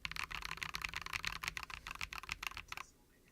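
Rapid mechanical keystrokes from a Corsair K65 Plus keyboard with red switches, recorded close, a dense run of clicky taps lasting about three seconds before stopping abruptly into quiet.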